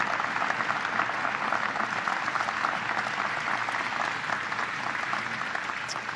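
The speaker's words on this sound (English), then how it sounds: "Would you please give them another round of applause for making" Sustained applause from an audience at a National Space Council meeting for its members, dense steady clapping throughout with no voices over it.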